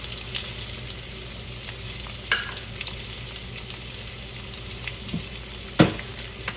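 Potatoes frying in a pan for sabudana khichdi, a steady low sizzle with a few sharp clinks and scrapes of stirring, close and without talk.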